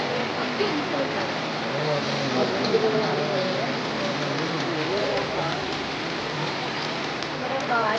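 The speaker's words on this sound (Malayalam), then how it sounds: "നന്നായിട്ട് മഴ വരുന്നുണ്ട്" Steady rain falling outdoors while people wait for a Krishna Jayanthi procession, a constant even hiss with no pauses, with people talking softly underneath.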